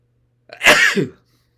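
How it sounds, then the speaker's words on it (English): A single sharp sneeze with a short intake before it and a breathy tail, loud and close, alone in silence. "I'm going to sneeze."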